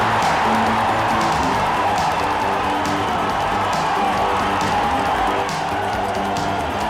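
Boston Bruins hometown hockey crowd roaring after a goal in the 1986-87 season, a dense, loud, steady wall of cheering, whooping and clapping across the whole stretch with no break.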